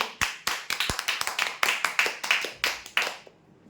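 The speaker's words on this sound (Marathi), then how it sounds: "जोरदार टाळ्या वाजवा." A small group claps rapidly and unevenly for a few seconds at a prize draw, sharp hand claps close by, fading out at the end.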